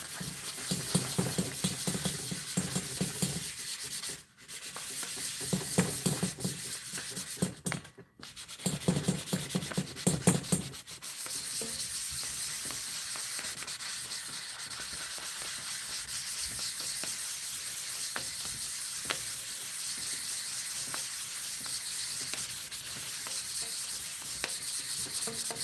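Hand sanding of a powder-coated surface on a custom e-bike hub part, a steady close scratchy rubbing that runs for the whole stretch, with brief pauses early on.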